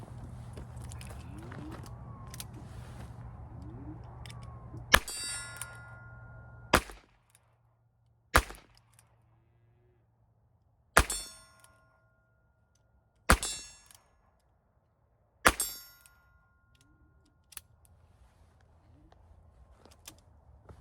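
A Ruger Wrangler revolver fires downrange at an outdoor range, with six sharp, loud shots spaced a couple of seconds apart, each with a short ringing echo, after a stretch of quiet background hum.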